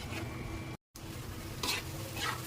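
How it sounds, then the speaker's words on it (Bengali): A spiced mixture fries in a pan with a steady, close sizzle and occasional stirring scrapes, broken by one brief cut to silence. "এখন এটা আমি ভাজা ভাজা করে নেব।"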